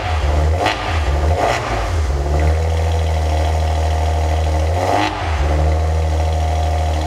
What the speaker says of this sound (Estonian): Ferrari poolt valmistatud 3-liitrine topeltturboga V6 bensiinimootor, mis arendab 316 kW ja 580 Nm ning see röögib nagu Tom Jones.